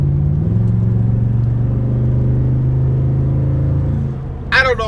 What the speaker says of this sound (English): let me give it a little gas for you.